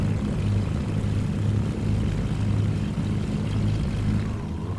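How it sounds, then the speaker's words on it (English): A propeller airplane flies over North Carolina, its engine a low, raspy drone with a pulsing throb that stays steady and close throughout, with no voices. "I love how these engines sound. This airplane has like one of the coolest sounding engines."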